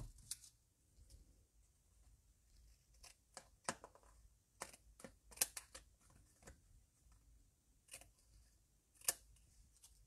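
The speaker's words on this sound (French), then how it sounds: "je vais venir découper ce qui dépasse de ma carte" Scissors snip excess paper from the edge of a handmade card in a series of sharp, close, irregular cuts. Quiet pauses sit between the cuts.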